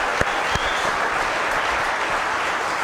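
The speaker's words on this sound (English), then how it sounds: "how about a big round of applause for Scott Flick" Studio audience applauding for Scott Flick on a sports talk show set, a dense, steady wash of clapping at constant loudness throughout, with a couple of sharper claps standing out near the start.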